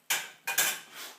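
Turkey jambalaya being stirred in a pot, three or four quick scraping, clinking strokes of a utensil against the pot, close and fairly clear, without talk.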